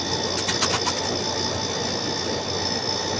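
Racing pigeons, Jan Aarden and Jansen strains, burst into flight at a loft, a quick flutter of flapping wings over a steady, noisy background hum.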